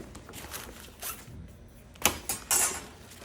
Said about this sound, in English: I'm using a yardstick to break the Velcro.